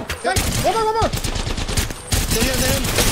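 Fast bursts of automatic gunfire in a battle royale video game tournament match, loud and nearly continuous, overlapping with excited player voices shouting callouts.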